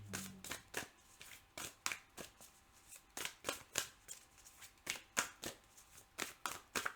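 Oracle cards being shuffled by hand, a quick run of soft riffling snaps and flutters in uneven bursts, close up and fairly quiet, with no voices.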